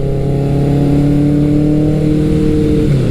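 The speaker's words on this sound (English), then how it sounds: "just the sound that this bike makes" A classic muscle motorcycle, a Kawasaki ZRX1200R or Suzuki GS1100L, holds a loud steady engine note close by. The pitch climbs slightly toward the end with no talk over it.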